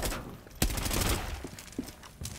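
Gunfire rings out in a Rainbow Six Siege match: one sharp loud shot followed by a rattle of rapid fire, then a few scattered lighter reports, all close and without talk.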